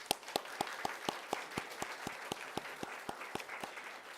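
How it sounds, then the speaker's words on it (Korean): A church congregation at a Sunday service claps in a crisp, regular rhythm, with sharp, evenly spaced beats over a softer wash of scattered clapping throughout the hall. "우리 감사와 영광의 박수를 올리겠습니다."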